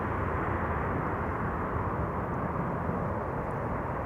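Airliner at Amsterdam Schiphol deploying its thrust reversers after landing, a loud, steady, broad engine roar filling the whole stretch without a break.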